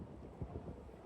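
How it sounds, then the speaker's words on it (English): Wind blowing outdoors in Hong Kong, a steady low rush with gusts buffeting the microphone for about a second, close and moderately loud with no talk. "It's very windy and blowy."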